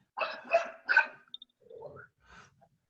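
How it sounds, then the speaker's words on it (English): A dog barks three times in quick succession close by, then gives a short whine and a few softer yelps, with no speech. "my dog is going crazy"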